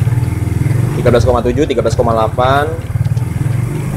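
A motorcycle engine revs above 3000 rpm during a regulator-rectifier diode test, a steady mid-pitched drone running under a voice reading out numbers.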